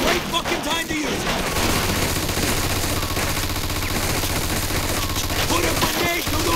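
Mafia 2 machine gun fire: dense, continuous rattling volleys mixed with a chaotic firefight din, loud throughout, with brief voices shouting over it.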